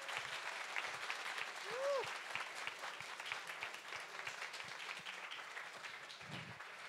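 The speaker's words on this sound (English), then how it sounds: "Big applause for him." Audience applause for a speaker being introduced at an evening tech talk event, a dense sustained clapping from a room full of people lasting throughout, with a brief tonal chirp partway through.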